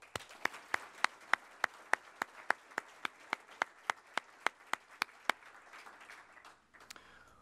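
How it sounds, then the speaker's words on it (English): Audience at a medical school gala dinner claps in a steady, rhythmic round of applause, sharp individual claps spaced evenly before fading out, moderately distant in the hall. "I would like to give him a round of applause."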